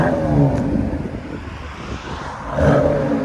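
A 2022 Dodge Durango GT with a 3.6L V6 and resonator delete revs hard against its rev limiter, a raspy exhaust rising and bouncing in two close surges, heard from nearby outside the vehicle.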